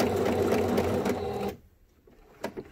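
A sewing machine stitches a homemade N95-style fabric mask in a steady loud run that stops abruptly, leaving near silence and a couple of light handling taps.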